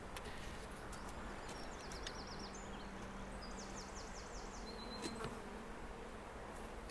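Honeybees buzz steadily around an open hive during an inspection, a dense, continuous hum with a few individual bees whining past nearby. The buzzing fills the background with no speech.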